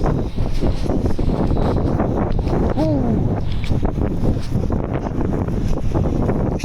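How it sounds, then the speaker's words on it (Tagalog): Strong wind on open grassland by the sea buffets the microphone in continuous heavy rumbling gusts, with a brief voice-like sound partway through. "Ang lakas ng hangin nga ni."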